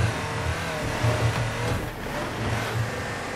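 A 1972 Land Rover's engine drones and revs steadily while off-roading through mud in Forza Horizon 4, a low, strained rumble that dips briefly then climbs again, with no talk.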